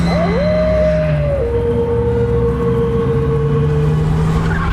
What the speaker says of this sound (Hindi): वो गाड़ी फुल स्पीड में दौड़ाता है।